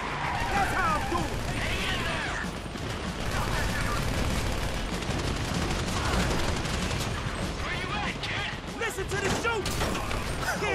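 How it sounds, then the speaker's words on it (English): Bursts of rapid gunfire and scattered shots crackle throughout amid a busy, noisy mix in Grand Theft Auto 5, with voices talking over the fighting. "You hear that gunfire?"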